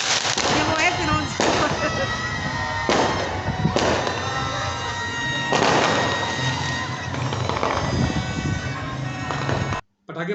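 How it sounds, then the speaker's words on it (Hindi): Repeated sharp bangs of firecrackers at an Independence Day celebration burst one after another, loud and close, with crowd chatter and commotion underneath throughout. "पटाखे फोड़े गए, शोर मचाया गया"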